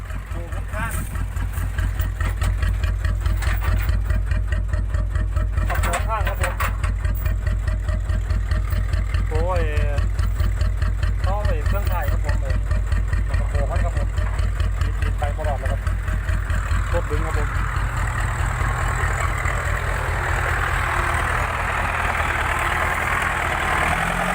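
Vehicle engine running steadily and loudly during the towing of a stuck vehicle out of a mud hole, a constant low rumble throughout with voices talking over it.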